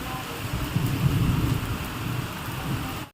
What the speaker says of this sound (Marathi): तेवढ्यात पावसाचं आगमन झालं